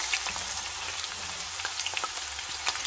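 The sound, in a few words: onions added to hot oil, frying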